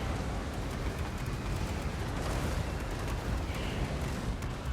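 Rockets fire continuously during a Total War: Warhammer 2 battle, a dense rumbling barrage of blasts and crackles that keeps up without a break.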